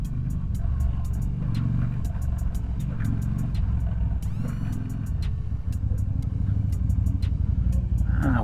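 A 2001 Yamaha Dragstar 250 cruiser motorcycle rumbles steadily as it rides off, its engine drone loud and continuous with a brief rise in revs, accompanied by sharp ticking clicks.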